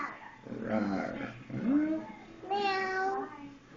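A young child imitates a bear, giving a short rising growl-like cry after voices speak nearby, followed by another drawn-out vocal sound.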